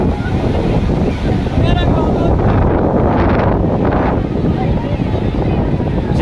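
Heavy, rough sea surf pounds the beach at Cox's Bazar as strong wind buffets the microphone, a loud, continuous roar with no break.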